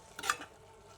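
A ladle stirs a spinach and onion curry in a pot, a single short scraping swish near and faint over a soft background sizzle.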